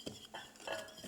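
A quiet utensil stirs half a cup of granulated white sugar by hand in a bowl for carrot cake cupcake batter, giving four short scraping, clinking strokes in quick succession, heard close and alone.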